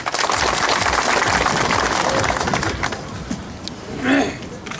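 An audience at a furniture store opening claps to welcome the mayor to the podium, dense applause that fades after a few seconds, followed by a brief burst of voices near the end.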